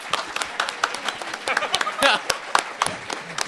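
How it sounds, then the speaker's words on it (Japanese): A crowd claps, a quick scattered patter of many hands at moderate distance, lasting a few seconds. "皆さんぜひ拍手をお願いいたします"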